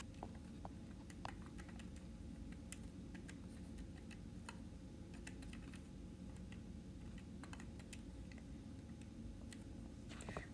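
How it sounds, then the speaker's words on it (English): Numbers punched into a calculator: faint, rapid, irregular key taps over a steady low room hum for about ten seconds. "So we type this into our calculators."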